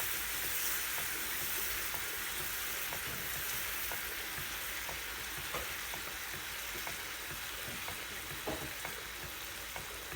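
Kuymak, a cornmeal and cheese dish thinned with hot water, is stirred as it cooks in a pan, giving a steady close sizzle with soft, regular scraping strokes and no talking.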